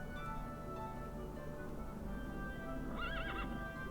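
A horse whinnies in the video game Daggerfall Unity, a clear rising-and-falling neigh near the end, over steady game ambience and soft background music.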